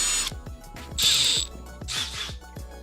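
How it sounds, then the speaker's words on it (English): Drill boring out slightly oversized holes in plastic 3D-printed parts for a Voron V0.1 printer build, heard as two bursts of high whine with repeated clicking and ratcheting between them, close and moderately loud. "I gotta drill these out."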